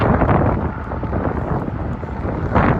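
Wind gusts steadily across a riverside park on a hot summer evening in Manhattan's Upper West Side, a loud, continuous rushing buffet against the microphone that swells again near the end.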